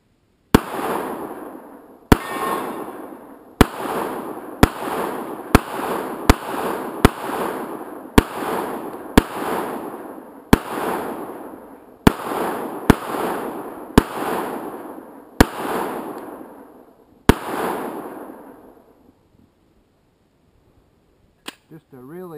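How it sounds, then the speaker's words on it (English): An FNX .45 ACP pistol fires about fourteen loud, sharp shots outdoors at water jugs and a hanging quarter-inch steel plate. The shots come at an irregular pace, each with a long echoing tail, ending with a faint clink. "Just a really fine shooting 45."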